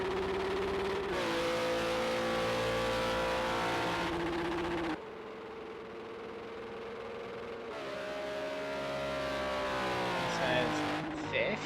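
A Cadillac GT3 race car engine in a racing video game at the Le Mans Bugatti Circuit drones loudly and steadily, its pitch dropping at gear shifts and climbing again, with a commentator talking over it.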